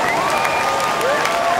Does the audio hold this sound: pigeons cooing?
no